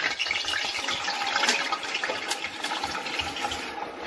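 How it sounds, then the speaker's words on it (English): Blended onion, pepper and plum tomato poured into hot oil for jollof rice, making a steady hissing, bubbling sizzle that holds throughout at moderate loudness. "now we are going to be pouring it inside the hot oil"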